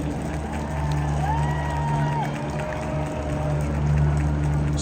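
Arena crowd at a Monster Jam show in Greensboro, North Carolina, roars and cheers with scattered applause, a broad sustained wash of noise over a steady engine-like drone.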